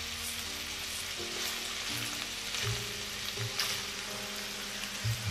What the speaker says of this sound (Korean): 중약불로 해서 볶아주겠습니다.